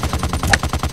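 Rapid, rhythmic bursts of automatic gunfire from a game, evenly spaced and loud, with no talk.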